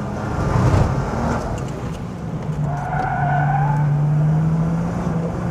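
A sports car slides with oversteer on a wet track, its tires skidding and squealing in a sustained tonal whine over steady engine roar, close and loud.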